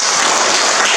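Applause from a classroom of students fills the whole moment, a dense, steady wash of clapping with no gaps and no voices rising above it.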